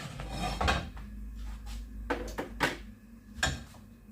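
A thick mixture of grated zucchini and processed cheese is stirred, giving soft intermittent scraping and rubbing strokes against the bowl, fairly close and quiet, with no talking.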